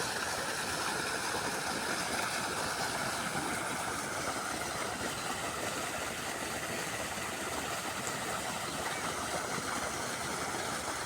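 An ACI water pump motor in Bangladesh, roughly 40 metres away, runs with a steady, even engine-like hum and rumble that holds unchanged throughout, with no talk.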